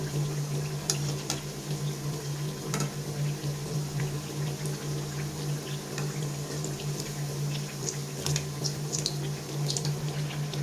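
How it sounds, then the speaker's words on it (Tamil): Paruppu vadai, crisp lentil fritters, frying in hot oil in a home kitchen: a steady, close bubbling sizzle runs throughout with scattered small pops and crackles, and a low steady hum sits underneath. "எண்ணெய் சூடானதான் வடையை போட்டு எடுத்துருவோம். இப்போ சவுண்டு வந்துடுச்சு."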